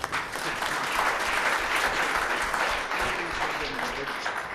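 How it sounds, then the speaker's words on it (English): An audience at a Gauteng provincial government event gives a round of applause after an official is introduced: dense, steady clapping from many hands, fairly loud and sustained for several seconds. "A good round of applause for it."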